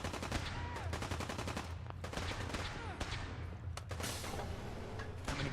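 Dense, continuous gunfire rattles through a firefight in the video game Fallout with the Sim Settlements 2 mod, heavy automatic bursts layered over one another throughout at a steady, moderate level.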